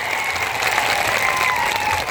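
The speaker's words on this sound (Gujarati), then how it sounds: "સંઘર્ષશીલ એવા આનંદભાઈ પટેલ સાહેબ માટે જોરદાર તાળીઓ પાડ લઈએ" Enthusiastic crowd applause for Anandbhai Patel at an MLA event marking the 150th birth anniversary of Bhagwan Birsa Munda, many hands clapping in a continuous wash with faint crowd murmur beneath.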